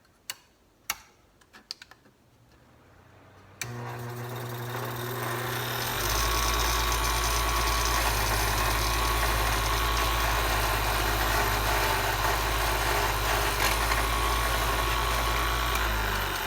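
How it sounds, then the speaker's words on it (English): A bench wire wheel spins up from a few clicks into a loud, steady motor whine and hum while a crankshaft bolt from a Mazda Miata MX5 is cleaned. The drone holds continuously through the rest of the clip. "So we'll just turn on our wire wheel here."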